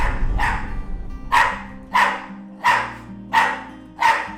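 Several dogs in kennels bark in a steady series of five loud, evenly spaced barks, with softer yips and a low rumble of other dogs in the background.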